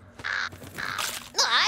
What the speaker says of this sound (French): Ce corbeau de malheur m'a mordu!